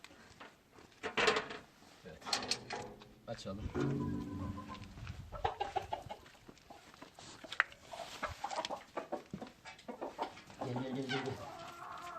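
Hens with CRD respiratory disease cluck and squawk close by in bursts and chattering runs, with scattered rustling and knocks in between, on a foggy day in Trabzon.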